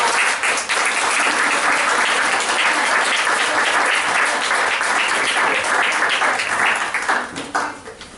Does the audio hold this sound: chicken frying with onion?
no